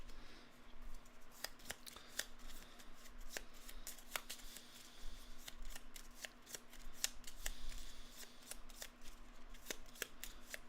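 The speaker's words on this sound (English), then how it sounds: "we're going to shuffle that in for the 12" A deck of game cards for the Final Girl board game is shuffled up close, a steady run of crisp riffling and snapping card flicks with no talking.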